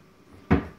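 A kitchen cupboard door in a modern rented flat opens or shuts with a single sharp wooden knock at close range, preceded by quiet room tone.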